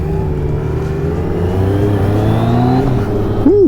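Motorcycle engine accelerating hard, a steady loud drone with rising harmonic tones as the revs climb, heard up close with no talking.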